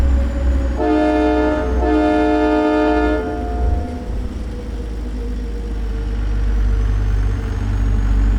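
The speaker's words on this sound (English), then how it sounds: "Let's do a blast of the horn in here, especially since we're using the train horn here today." A train horn fitted to a truck in American Truck Simulator, driving through a tunnel, blares two long chord blasts over a steady engine rumble, then fades as the engine drones on.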